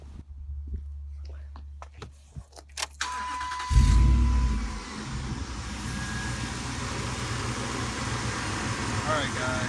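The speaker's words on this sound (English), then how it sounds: "So let's start the vehicle and check it out." A car engine cranks and catches at close range, then settles into a steady idle that runs to the end, after a replacement alternator has been fitted; some light handling noises come before it starts.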